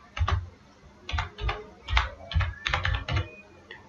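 Keys clatter on an HP laptop keyboard in short bursts of quick clicks with pauses between them, close and clear with no talking.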